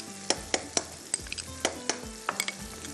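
Mutton frying in a pan with red chili, salt, ginger, garlic and cumin masala, a series of sharp scraping stir strokes over a soft sizzle, close by with no talking.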